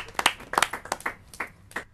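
A few people clap for quiz contestants after a correct answer, producing sparse, separate hand claps in uneven bursts that stay moderately quiet in a small room.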